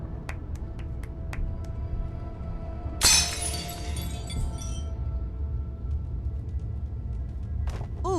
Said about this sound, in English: Can you break the case glass for me while I lay the chains out?